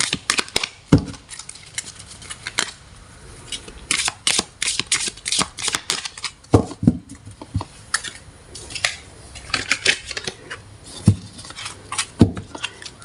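Oracle cards are shuffled by hand close by in a long run of crisp riffling and slapping bursts, steady and uneven in rhythm, with no talking.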